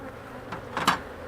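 Honey bees buzzing near a hive during a fall inspection, a few brief close fly-by hums rising and fading over a soft background drone.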